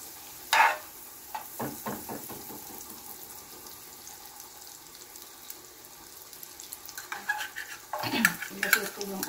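Butter heating in a pan for sautéing, with a soft low sizzle broken by sharp clinks and scrapes of a utensil against the pan, quieter in the middle and busier toward the end.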